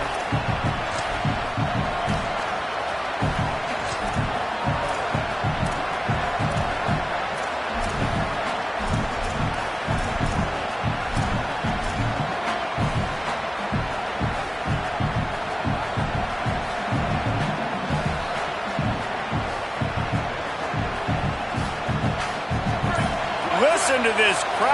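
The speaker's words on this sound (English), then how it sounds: "Listen to this crowd just shaking the girders of this place trying to help their defense" Stadium crowd at a football game roaring for the home defense, a dense, continuous wall of cheering and noise that stays loud from start to finish, with thumps and louder surges scattered through it.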